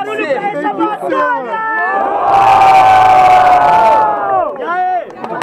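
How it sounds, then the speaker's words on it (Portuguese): A crowd at a student rap battle in Guarulhos, São Paulo, cheers and shouts loudly, rising to a dense roar in the middle while an MC's amplified voice keeps talking over it. "Mas muito barulho pra essa batalha!"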